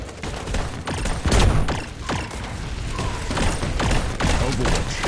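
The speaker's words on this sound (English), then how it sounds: "Calling artillery support." Artillery strike in the squad survival game Red Solstice 2, a series of heavy thumping impacts and crackling blasts spread irregularly over several seconds, loud and close amid mechanical game noise.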